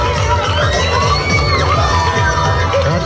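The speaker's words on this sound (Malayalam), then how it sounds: "നിറഞ്ഞ ആരവങ്ങളോടെയാണ് പെൺപടയെ കാണികൾ വരവേറ്റത്." Spectators at a school girls' cricket match cheer and shout loudly and continuously, a dense crowd roar with children's voices and whoops layered over rhythmic clapping.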